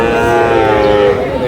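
A Sahiwal bull calf lets out a long, drawn-out moo at a crowded cattle market, loud and close, with market chatter underneath.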